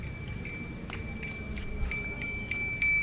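A bell rings outdoors, striking repeatedly in a quick, uneven series with a bright ringing tone that hangs between strikes, heard at moderate distance over low background rumble.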